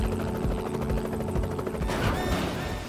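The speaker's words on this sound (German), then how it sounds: "als einer der Hubschrauber beim Überfliegen des Gebäudes abstürzt" A military helicopter flies overhead with loud, rapid rotor chopping and a dense engine roar, close and continuous throughout the short stretch.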